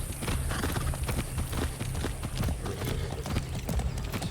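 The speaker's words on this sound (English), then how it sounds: "let's go for a horse ride" Horse hooves clip-clop in a rapid, steady rhythm as a horse is ridden in a video game, the beats loud and close over a continuous background bed, with a few faint voice fragments.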